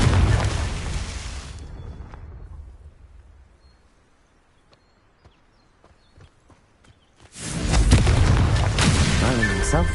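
A Confringo spell explosion in Hogwarts Legacy on PS5 bursts loud and broad, fades into a quiet stretch with faint ticks, then a second heavy blast roars back and holds to the end.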